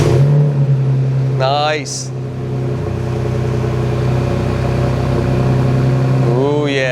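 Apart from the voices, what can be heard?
SUV catback exhaust revving and idling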